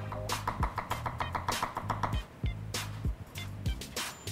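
A knife chops garlic on a cutting board with a rapid, uneven run of sharp taps that pause now and then, close and fairly clear, with no talk over it.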